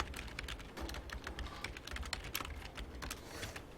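Steady, rapid clicking of a computer keyboard as code is typed, close and fairly quiet, with dense irregular keystrokes throughout and no voices.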